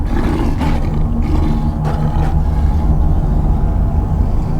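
A low, rumbling tiger growl rolls on continuously, deep and fairly loud, with a few brief rougher swells, and no talking.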